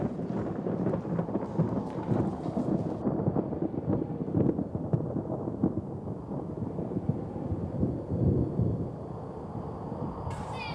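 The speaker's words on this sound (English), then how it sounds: "There's a storm blowing up. Better get under cover." A stage thunderstorm effect in a Wizard of Oz play rumbles and hisses steadily with rain-like noise and rolling thunder throughout, loud and continuous.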